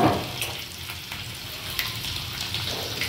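Chopped garlic fries in very hot oil in a home kitchen pan for a cabbage bhaji, a steady close sizzle and crackle running throughout with faint stirring scrapes, no talking.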